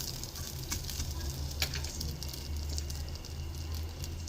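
Neem flowers dry-roasting in a pan until well browned, crackling in a dense, steady sizzle with small scattered pops and occasional stirring scrapes, all close.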